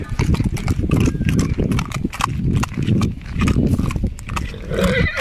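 A powerful black four-year-old horse being walked at the Nagaur fair in Rajasthan, hooves clip-clopping in a steady rhythm close by, partly under a bustle of voices and fairground chatter.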